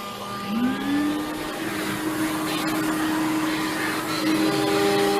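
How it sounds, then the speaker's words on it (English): A shop vacuum starts up at a CNC router cutting a 2 foot by 1 foot section: a rising whine settles into a steady, loud motor drone with a constant tonal hum that runs alone to the end. "Let me start up the vacuum."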